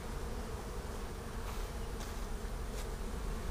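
Dense, steady buzzing of many honeybees in a long hive, close and continuous, with no talking.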